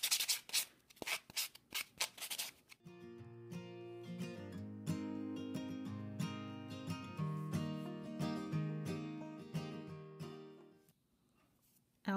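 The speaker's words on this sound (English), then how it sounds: "I'm going to use the fine part and I'm just going to sand this nail to make sure it's nice and smooth" A fine nail file block sanding an acrylic nail smooth, a close steady rubbing that runs for several seconds, with tonal music underneath and a few taps at the start.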